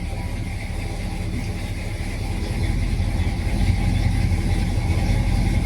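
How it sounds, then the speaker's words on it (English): A 1966 Ford Fairlane engine runs steadily with a deep, throaty rumble that swells slightly louder midway, close by and without talk. "this car sounds amazing"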